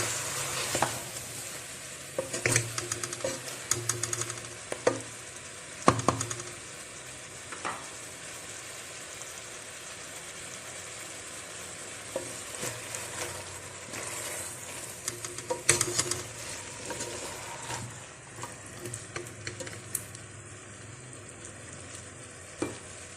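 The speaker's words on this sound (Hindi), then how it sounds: "थोड़ा सा मजीद फ्राई कर लेते हैं।" Potatoes and mutton sizzle steadily in a pan while being fried and stirred. The close, continuous frying hiss is broken by repeated scraping and clattering stirs, and no one speaks.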